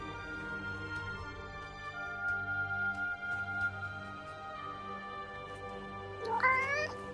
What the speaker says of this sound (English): Hey, that cat.